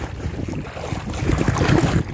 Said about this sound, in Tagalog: Medyo mahangin naman siya pero kayang-kaya.